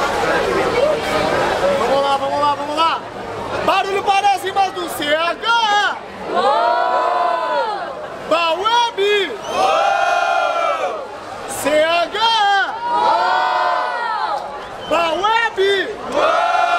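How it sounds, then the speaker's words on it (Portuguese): A rap battle crowd in Barueri, São Paulo, roars and cheers loudly with rhythmic chanting and whoops rising and falling in waves, under a dense babble of many voices. "Barulho para as rimas do CH"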